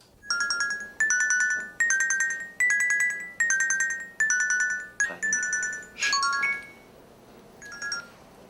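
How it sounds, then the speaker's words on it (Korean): A telephone rings for a seafood company executive in the afternoon, with about seven loud, evenly spaced bursts of electronic trilling tones followed by a couple of broken, fainter rings, and no voices. "한편 수산업체 전무 박태기가 전화를 받은 것은 그날 오후 무렵이었다."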